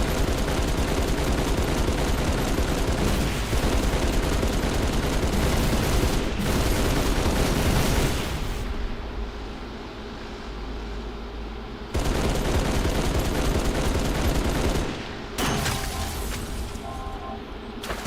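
Heavy automatic fire from a mounted pelican turret in a video game, loud continuous bursts of gunfire with booms mixed in, broken by a few short pauses and no talking.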